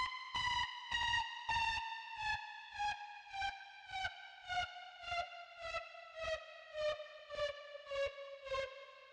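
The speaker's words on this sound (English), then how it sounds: "So I just brought a pitch automation there, I threw some saturation, and then I added some sidechain and got a really, really cool background texture with that" Saturated synth string drone for mid tempo electronic music, its pitch slowly sliding downward while sidechain pumping chops it into a steady rhythmic pulse, quiet and alone.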